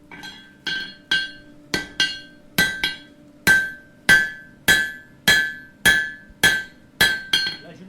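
At an art metalworker's forge, a blacksmith strikes glowing hot metal to mark it, about a dozen evenly paced, ringing hammer blows up close, each leaving a metallic shimmer.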